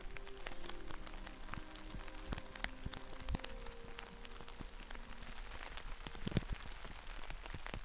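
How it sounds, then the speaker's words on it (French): Rain patters steadily with scattered close drips and taps on a surface, a soft continuous wash with no voices. "malheureusement il pleut"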